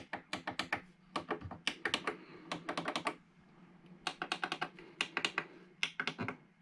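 Synthesizer buttons click in quick, clustered runs of crisp taps, close and fairly quiet, with short pauses between bursts.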